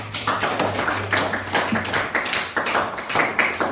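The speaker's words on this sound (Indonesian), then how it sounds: "Berikan tepuk tangannya." Participants at a learning seminar clap, giving a steady run of overlapping hand claps that keeps up for several seconds, with a low steady hum underneath.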